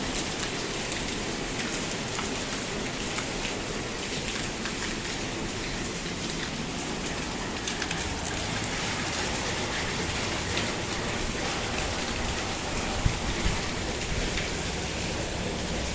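Steady rain falls on surfaces on a rainy day, a dense, even hiss and patter that stays loud and constant throughout with no talking.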